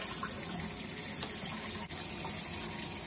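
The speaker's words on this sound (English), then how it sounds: "I'm going to go ahead and find some water, some hot water in here and wash up some of these." Hot water runs steadily from a kitchen tap into a sink for washing dishes, a continuous broad splashing rush that holds at an even level throughout with no talking.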